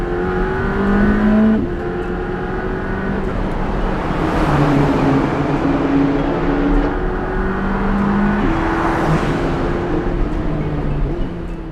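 A Ferrari Valhalla hybrid supercar with a dual-clutch transmission and all-wheel drive accelerates hard, its engine note rising and falling through two loud surges over a steady roar.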